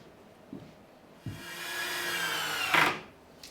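A power driver sends a screw into a cedar wood potting bench: two light knocks, then a rising, whirring grind lasting about two seconds that ends in a sharp squeal before stopping.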